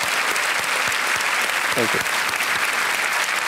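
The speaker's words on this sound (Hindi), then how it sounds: "तालियों के साथ उनका अभिनंदन।" A studio audience on Kaun Banega Crorepati applauds steadily and fairly loudly, with a man's brief spoken thanks heard over the clapping midway.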